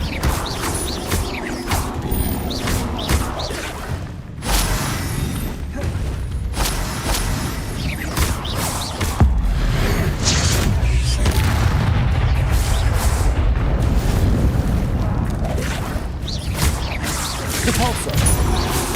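Hogwarts Legacy spells, Depulso, Confringo, Levioso and Flipendo, go off one after another in loud booms, crashes and whooshes, with a voice calling out over the effects.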